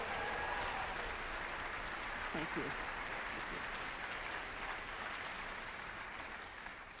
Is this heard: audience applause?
yes